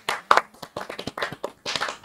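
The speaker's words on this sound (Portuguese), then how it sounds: "Sabiá, aplausos para ele." A few people clap for a guest on a podcast, a small scattering of sharp, close handclaps in uneven bursts with brief gaps, more like a handful of hands than a crowd.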